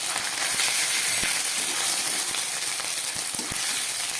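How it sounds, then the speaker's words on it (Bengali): Capsicum frying in a pan with ginger paste and cumin gives a steady, fairly loud hiss broken by scattered sharp pops and crackles, with no voices. "সামান্য একটু মশলার জল দিলাম, দিয়ে একটু ভেজে দিই।"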